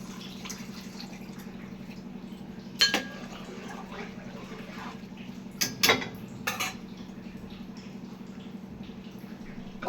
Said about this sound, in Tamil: இப்போ புளி ஊற்றிடுறோம்